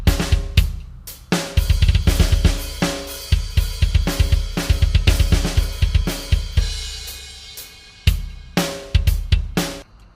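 Programmed drum pattern played back in recording software, driving kicks, snares and bright cymbal hits in a busy steady rhythm with a short break and fills, loud and alone without speech.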